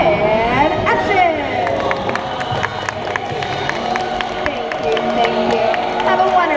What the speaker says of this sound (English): don't forget the thunderous applause for yours truly